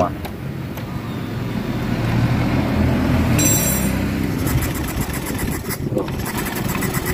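A Honda Vario 125 scooter fitted with a new injector and new fuel pump cranks over and over without starting, a steady whirring churn close by, with a brief high whine partway through and a voice under it.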